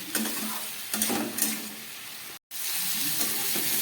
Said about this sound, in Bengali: মশলা দিয়ে কষাতে গিয়ে তেল বেরিয়ে গেল আমার একদম রেডি হয়ে গেল কষানো